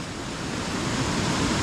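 Rising floodwater rushes through a farm field in the Philippines, a steady broadband roar of moving water with no talk over it.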